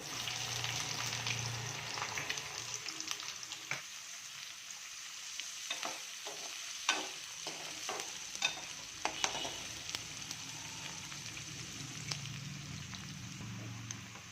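Onions and chana dal, with cumin, fry and sizzle quietly in a pan in a steady hiss. A spoon scrapes and clicks through them now and then, and no one speaks.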